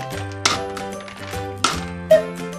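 Gumballs pour into a toy gumball blender, landing in a few bright clattering bursts of hard candy on plastic, each followed by a short rattling settle, close and fairly loud.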